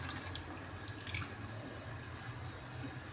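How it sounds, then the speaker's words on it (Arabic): Water poured from a glass into a cooking pot of softened onions and raisins, a steady soft close-up trickle and splash with no talking. "دوكا نجيب نص كاس ماء"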